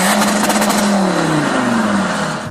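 A car engine revs hard under acceleration, its loud, rising mid-range drone climbing in pitch as the gears pull. No voices are heard over it.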